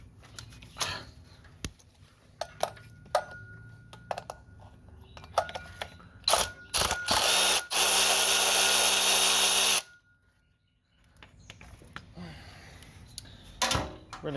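Power tool backing out 10 millimeter bolts on a 1996 Mustang Mystic Cobra, heard as several short bursts followed by one longer sustained whir of about two seconds, with clanks and handling noises around it.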